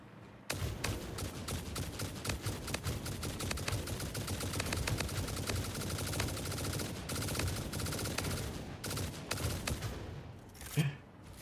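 Steady automatic gunfire from Throne and Liberty rattles along as a rapid, continuous stream of shots, with a few brief pauses and a louder thump near the end.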